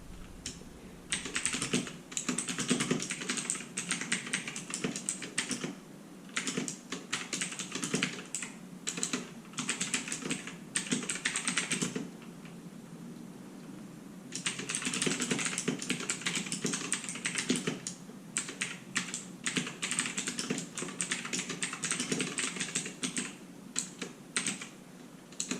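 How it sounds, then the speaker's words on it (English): Fast, uneven clatter of keys on a keyboard connected to a Raspberry Pi 4B with 8GB, typed in bursts with a brief pause midway, close and clear with no voices. "Okay, so I typed a few things."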